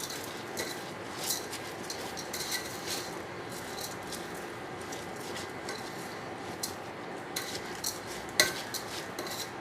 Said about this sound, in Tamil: நல்லா பிரட்டி விடணும்